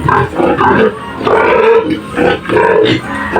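Piglets on a small farm give close, loud grunts and oinks in repeated overlapping bursts, with no human talk.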